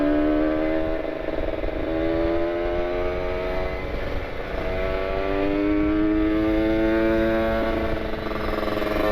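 A motorcycle fitted with an R9 carbon exhaust, ridden at night on Bandung roads with a cold engine, drones steadily with rising and falling engine tones as it accelerates and shifts, loud and continuous with no talk.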